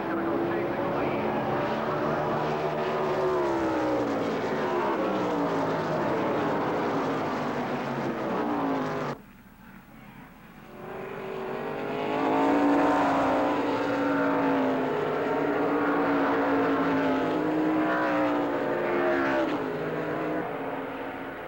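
Stock cars racing at Watkins Glen, loud droning engine roar from a pack of cars, dropping briefly at a cut then swelling again as the cars pass close; speech runs underneath.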